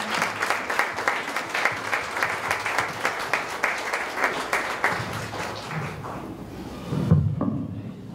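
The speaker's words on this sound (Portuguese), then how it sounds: "Uma grande salva de palmas para ele, por favor." Congregation at a church vigil breaks into rhythmic, fairly close clapping that pulses steadily, then thins out and fades, followed by a brief low thump and rustle.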